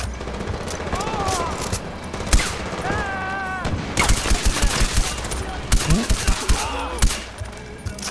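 Rapid machine gun fire rattles through a Far Cry 4 firefight, with dense bursts and scattered individual shots under a player's excited talking and exclamations.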